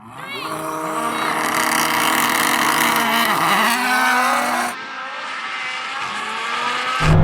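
A rallycross car races hard at a drag race, engine roaring loud and continuous with gear changes and pitch sweeps, then dropping away before another surge at the end.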